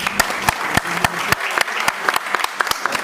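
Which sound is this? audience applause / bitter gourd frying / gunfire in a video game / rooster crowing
audience applause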